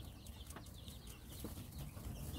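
Chickens, native Korean and green-egg breeds, cluck softly at a morning feeding on a small farm, faint scattered calls over a low steady background hum.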